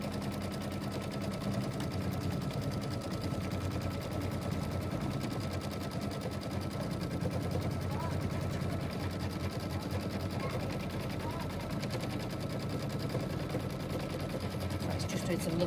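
A sewing machine stitches small star shapes across a quilt with a fast, continuous mechanical patter. The steady running whirr continues throughout at a moderate level.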